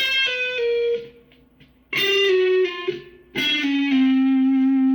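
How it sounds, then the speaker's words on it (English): Electric guitar with effects plays a short melodic run of sliding single notes in chromatic passing tones, sustained and ringing, with brief pauses between phrases. "And then here come our chromatic passing tones."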